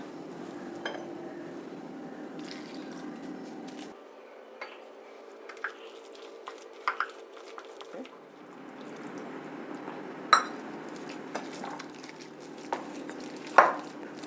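Snack batter is mixed with water in a bowl by hand or spoon, giving soft wet squishing and scraping, with light clinks of utensils against the bowl over a quiet kitchen background.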